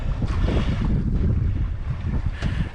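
Wind blowing on a sailboat heading into Comox, a loud continuous rushing buffet across the microphone with gusts and water noise beneath, and no talking.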